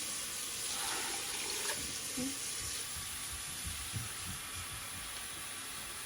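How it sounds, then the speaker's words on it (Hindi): Water poured into a pot of black chana curry gives a steady rushing splash that hisses against the hot masala, strongest at first and settling into a softer sizzle. "पानी हम डालेंगे"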